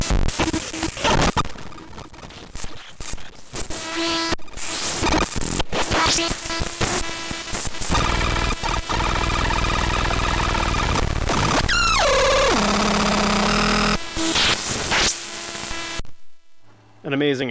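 Harsh noise synthesizer starved of power by a Power Starve device, a loud, dense wall of buzzing, crackling static with sputtering cutouts and a sweeping pitch drop near the end, then an abrupt cut.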